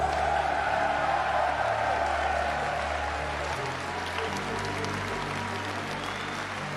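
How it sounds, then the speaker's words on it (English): A crowd at a gaming event applauds the players in a dense, sustained wash of clapping and cheering that fades slightly toward the end. "Round of applause for all of our players."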